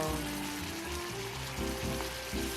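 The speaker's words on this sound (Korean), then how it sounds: "중불에서 끓여줍니다." Egg-in-hell pasta sauce simmering in a pot over medium heat, a steady soft bubbling with low rumbling pops, close and continuous with no talking.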